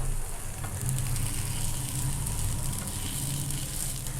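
Paniyaram batter sizzling in a hot mold over medium heat as the pieces are flipped one by one, a loud, steady, close frying hiss with faint scrapes and no voices.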